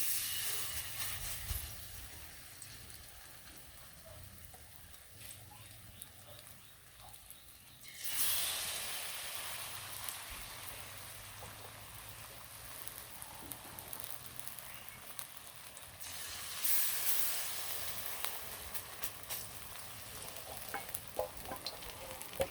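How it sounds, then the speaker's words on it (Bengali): Pieces frying in hot oil, a steady crackling sizzle that swells into louder hissing bursts twice as more pieces go into the oil, close and continuous, with faint movement sounds. "অল্প অল্প করে সবগুলোই ভেজে নিই"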